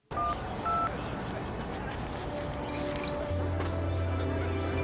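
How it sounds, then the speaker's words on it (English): Telephone dialing tones in a film, a few short bright beeps near the start followed by longer steady tones, set against a busy background and talk. "She then gets a call or notification, which is dialing tones."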